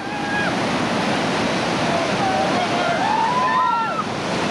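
Class rapids of whitewater on the Lower New River in West Virginia roar in a loud, steady wash of waves as rafts plunge through, with faint bird-like whistles and shouts over the continuous surf.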